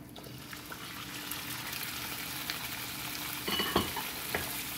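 Liver slices sizzle and fry in hot oil in a pan for a bistec de hígado, a steady close crackle with brief louder spatters near the end.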